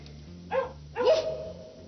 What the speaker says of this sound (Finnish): Kolmatta päivää siellä huutaa ja ulisee koira yksinään.